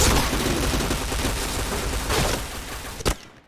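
Rapid gunfire from a first-person shooter video game, dense bursts of shots filling most of the moment, ending with a single sharp crack as the sound cuts off.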